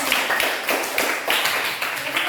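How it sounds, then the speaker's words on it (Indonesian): Classroom applause for a student group after they present an answer, a dense patter of many hands clapping steadily and fairly close, with a few voices mixed in. "Tepuk tangan dulu buat kelompok."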